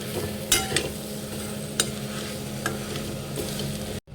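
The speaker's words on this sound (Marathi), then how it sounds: "बेसन आपल्याला आता मिक्स करून घ्यायचं आहे" Gram flour is stirred into a mashed potato and vegetable mixture in a hot pan, giving a steady soft sizzle with a few sharp spoon scrapes and taps before the sound cuts off abruptly.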